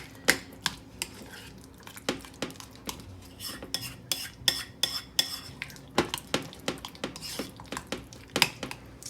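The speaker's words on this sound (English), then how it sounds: "you can mix this together with a spoon like me" A spoon mixes holiday appetizer ingredients in a bowl, producing a long series of sharp, irregular clinks and scrapes against the bowl, close and moderately loud with no talking.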